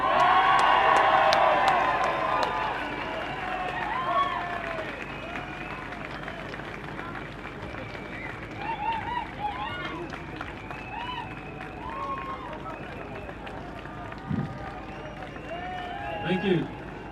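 A large crowd at an outdoor antiwar mass assembly applauds and cheers. The sound is loudest at the start and then slowly fades to scattered clapping and occasional whoops, with voices mixed in.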